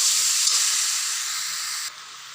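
Water hits egg curry frying in a hot pan, producing a bright, steady sizzling hiss that eases slightly, then drops to a quieter simmer near the end.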